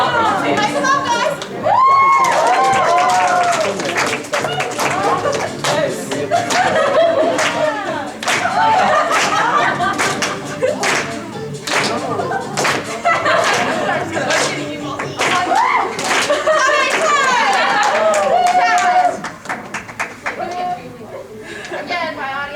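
Convention panel audience clapping loudly and steadily for a dance contest, with chatter, cheers and laughter mixed in, sustained for about twenty seconds before easing off.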